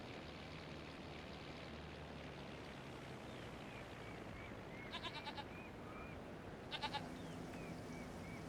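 Goats on a farm in Farming Simulator 25, a couple of short bleats standing out over a steady background hiss of running water or ambient noise, with faint chirping in between.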